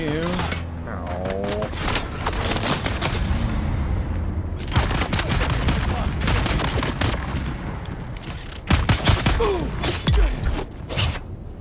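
Gunfire in the video game Dune Awakening, bursts of sharp shots and booms mixed with mechanical game effects, loud and close, with someone talking over parts of it.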